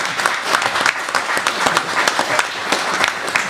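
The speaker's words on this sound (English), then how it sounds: "Let's give them a round of applause." A lunchtime audience applauds four jurors at an Oakland jury improvement event, a steady dense round of clapping lasting a few seconds without talking.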